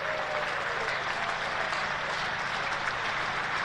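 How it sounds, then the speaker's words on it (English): A county cricket crowd at a Hampshire v Kent championship match applauds a batsman's double century, steady broadband clapping filling the whole stretch evenly at moderate distance, with no talk over it. "Not just much to the delight of Vince, but as you heard there, to this crowd as well"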